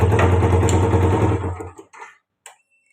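Yamaha Vixion motorcycle engine running loud and close for about a second and a half, then cutting out, followed by a few brief clicks and knocks in near silence.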